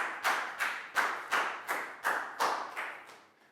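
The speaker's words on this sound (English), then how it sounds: "Big round of applause for Chew." A few pupils in a primary school science lesson clap in a slow, steady rhythm, about nine distinct claps spaced evenly and fading slightly toward the end, close and fairly quiet.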